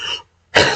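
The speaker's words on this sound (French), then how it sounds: "Même s'il y a une petite toux." A short throat clearing from a person who drinks sips to manage a cough, followed after a brief pause by a small, close, raspy cough.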